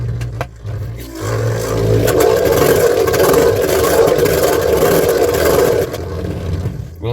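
An Imperial Dragon Beyblade Burst GT top spinning in left spin, giving a continuous close whirring scrape that holds steady for most of the stretch, then fades slightly toward the end.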